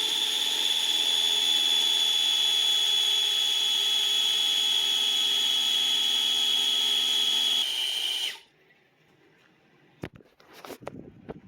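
A power drill spins steadily to prime the oil pump of a Ford 460 engine, a loud sustained whine with a strong high tone lasting about eight seconds, then cutting off abruptly and leaving quiet handling clatter.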